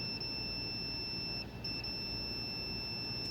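A PS5 console with a suspected shorted southbridge after a power surge gives a steady high electronic beep tone that holds continuously at moderate loudness, close by, with no talking.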